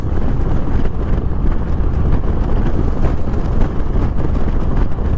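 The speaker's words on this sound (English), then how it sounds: "A little bit of a wind" Wind roars over the microphone while riding a motorcycle on a cool spring day around Edmonton, Alberta, a loud, constant, rumbling buffet with no break and no talking.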